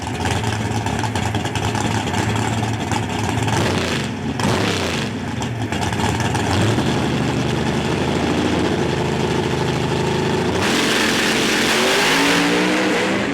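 A naturally aspirated pro stock drag racing engine rumbles loudly and steadily, then climbs in pitch as it revs harder, with the sound shifting sharply near the end.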